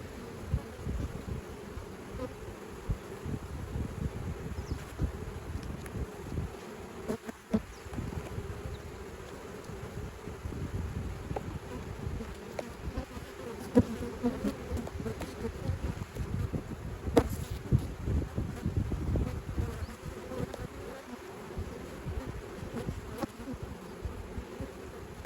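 Honeybees swarm around an open hive being split, a dense continuous buzz close to the listener with individual bees droning past, sustained throughout without speech.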